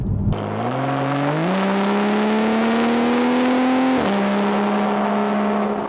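BMW M2 engine revving up in a smooth rising whine, climbing in steps, easing briefly, then holding a steady loud drone, heard close and without talk.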